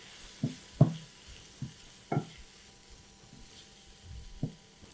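Spices such as turmeric, red chilli powder and kitchen king masala are stirred into a tomato masala frying in a pan. A low, soft sizzle runs under a few distinct scrapes and knocks of a spoon.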